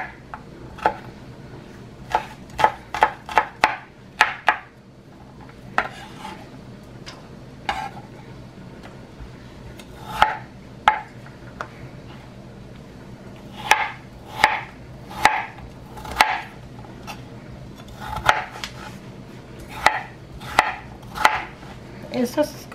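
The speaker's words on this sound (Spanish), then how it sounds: "También tengo aquí un ajo que voy a picar" Garlic is chopped with a knife on a board, crisp close knocks coming in quick bursts with brief pauses between them, some fast runs of several strikes, and no one talking.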